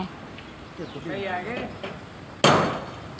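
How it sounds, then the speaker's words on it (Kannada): A hammer strikes once, hitting near a pipe during household repair work: a single sharp, loud metallic bang that decays quickly, following a stretch of quiet conversation. "ಸುತ್ತಿಗೆ"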